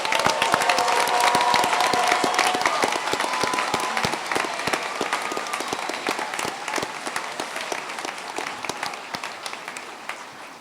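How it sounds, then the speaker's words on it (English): Sustained applause and cheering from a large audience at a 2017 Kirtland Community College commencement, dense continuous clapping that stays loud throughout and eases slightly toward the end, with a few whoops. "Can we have one more big round of applause for the graduates?"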